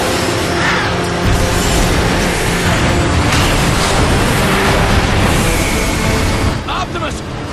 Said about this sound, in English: The Decepticon warp cannon!